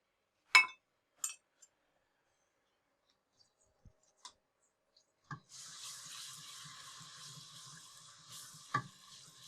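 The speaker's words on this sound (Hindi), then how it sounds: "अब इसमें हम डालेंगे लहसुन अदरक का पेस्ट जो हमने रखा हुआ था" Garlic ginger paste hits hot oil and sizzles steadily after a few scattered clinks and taps, the hiss swelling in and holding loud over faint stirring scrapes.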